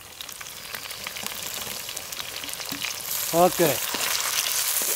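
Tomatoes and green chillies frying in oil for a Nellore-style fish curry give a steady broadband sizzle, with a short burst of louder clatter from stirring partway through, close and continuous.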